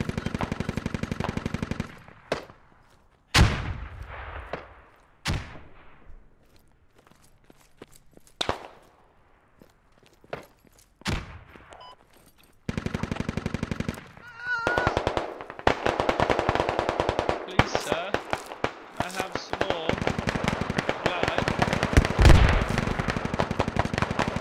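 Machine gun fire in a video game comes in long, loud sustained bursts and scattered sharp single shots. The shooting grows denser and almost continuous toward the end.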